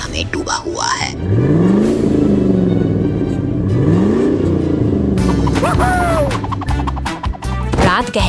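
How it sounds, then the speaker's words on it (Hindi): A cartoon monster truck rumbles along a lonely road at night amid crackling lightning, with swooping engine-like tones, revs and whooshing effects layered over a loud, continuous low rumble. "बिजली की खड़खड़ाहट के बीच मॉन्स्टर ट्रक सुनसान रास्तों से गुजरता है"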